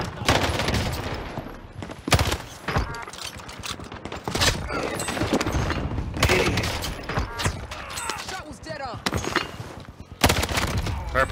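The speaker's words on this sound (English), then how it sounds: "this is a Nikita SMG build I made" Rapid bursts of automatic fire from a Nikita SMG build in a video game, clustered into repeated volleys with short gaps between them. The shots are loud and close, with mechanical clicks in between.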